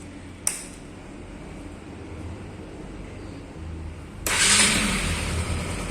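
A Bajaj NS200 motorcycle engine hums at a steady idle with a sharp click early on, then its revs climb abruptly into a louder, rougher roar for the final seconds.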